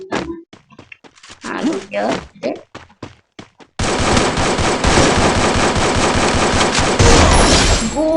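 Rapid gunfire erupts in the mobile battle royale game Free Fire Max, a dense, loud, continuous burst lasting several seconds after a short stretch of someone talking.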